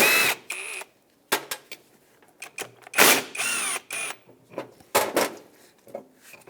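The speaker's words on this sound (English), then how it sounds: "Use a 14mm socket." A 14mm socket ratchet works on the bolts of a new Toyota Matrix brake caliper bracket, making bursts of quick ratcheting clicks and metallic rattles separated by short pauses, close and fairly loud.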